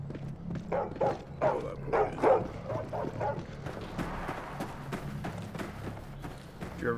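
Dogs in the video game Stay Out bark and yip in a rapid, close, fairly quiet series, denser in the first few seconds and then scattered over a low background.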